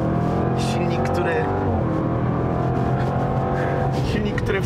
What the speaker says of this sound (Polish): Możecie słuchać, jak wspaniale brzmi silnik